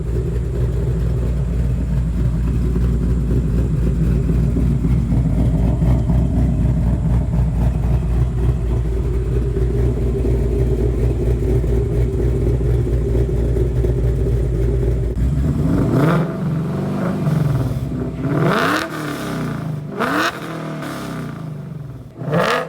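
A car engine rumbles through an exhaust with forward-mounted mufflers, a deep loud idle that holds steady before a sharp rise into several quick revs that surge and fall back, heard close with no talking.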